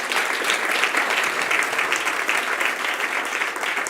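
Church congregation applauding during a service, dense sustained clapping throughout a few seconds, fairly loud and close.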